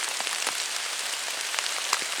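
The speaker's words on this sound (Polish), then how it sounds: "Deszcz leje strasznie." Heavy rain pours down steadily in a forest, a dense, even hiss of drops striking leaves and ground with occasional louder close splats, no voices.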